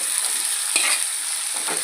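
A spoon stirs dal into banana flower curry in a hot pan, a steady close sizzle with a few brief scraping strokes, no voices.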